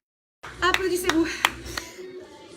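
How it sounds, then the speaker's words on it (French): After a workout session, a small group claps a few sharp, scattered times along with a sustained cheering voice, starting abruptly and fading out within about two seconds. "Applaudissez-vous."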